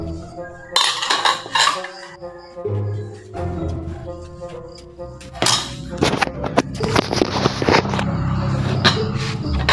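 Hot sopas being ladled into bowls at a Christmas Day meal, loud close clinks and clatters of ladle, pots and dishes in irregular bursts, with voices talking underneath.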